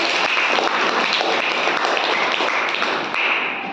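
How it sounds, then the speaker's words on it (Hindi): Children applauding together in a classroom, a dense, steady patter of many hands clapping, close and lively, fading slightly at the end. "ताली बजाओ"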